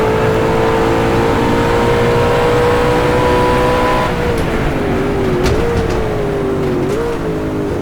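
An Ultima GTR engine in a racing game, a steady loud drone held at high revs that dips and wavers as the throttle is fed, with no voices.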